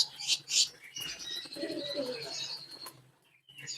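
Young fantail pigeons chirp and coo softly in a breeding coop, and one flaps its wings in a brief flutter. The birds sound close but faint.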